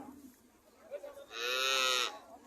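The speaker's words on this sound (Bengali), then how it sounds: "এখানে একটা ফিজিয়াম জাতের গাভী দেখা যাইতেছে।" A Friesian dairy cow at a farm in Comilla gives one drawn-out moo, loud and close, after a few seconds of quiet barn ambience.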